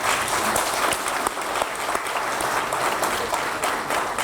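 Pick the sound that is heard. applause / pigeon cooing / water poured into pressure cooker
applause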